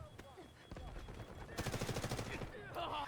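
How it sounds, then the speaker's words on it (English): Gunfire in the video game Delta Force, a faint rapid burst of shots in the middle followed by more distant firing, low in level. "so I heard the gunshots."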